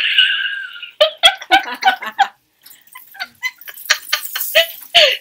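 Several dogs bark and yelp in quick, loud bursts indoors, with a stretch of high whining or howling and a short pause partway through.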